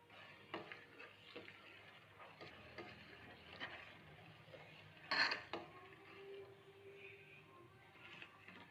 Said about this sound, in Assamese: এতিয়া ইয়াতে মই তেজপাত দুখিলা দি দিলোঁ আৰু লৰাই আছোঁ।